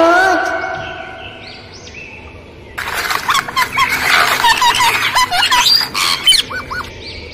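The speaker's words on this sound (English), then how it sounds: "P for parrot." A parrot in a children's alphabet rhyme cartoon squawks in a burst of loud, harsh, rapid calls after a stretch of sung melody, near and prominent.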